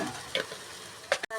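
Chicken tossed with chili powder in a pan for biryani, a soft sizzling hiss with a few short scraping stir strokes, fairly quiet and without voices.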